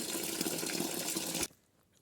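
Warm water pouring into a bucket, a steady loud rushing gush that stops abruptly after about a second and a half, leaving only faint residual dripping.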